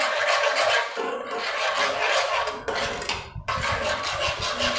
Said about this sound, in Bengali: আমি কিন্তু খুব ভালো করে নেড়েচেড়ে এই গুঁড়ো দুধটা জলের সঙ্গে মিশিয়ে নিচ্ছি।